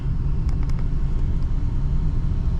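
A repaired 4.3L engine with a leaking injection module fixed idles smoothly and steadily, a constant low rumble heard close up with no talking.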